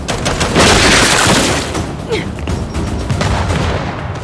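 Grenade blast and gunfire in Gears 5: a heavy roaring explosion swells early, then trails into scattered shots, debris and combat noise with a voice briefly heard in the mix.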